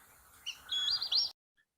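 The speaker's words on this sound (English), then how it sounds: "a northern cardinal. This is the male and a very prominent bird" A male northern cardinal sings outdoors in summer, giving a short, bright, whistled phrase of rising and falling notes over quiet background hiss before cutting off.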